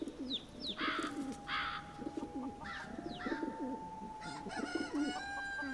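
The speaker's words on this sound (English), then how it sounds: "We have pigeons." Pigeons coo repeatedly in a modded Skyrim game world, with soft rolling calls over ambient outdoor background, joined by brief chirps and a faint tonal whistle, no talking.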